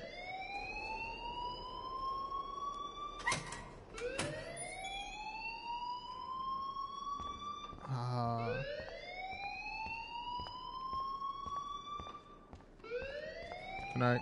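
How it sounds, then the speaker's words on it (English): A school alarm wails on and off in the video game Life Is Strange, a loud rising siren that repeats in long sweeps and is broken by a few brief clatters and thumps, with no voices. "please turn off that alarm since that's your job"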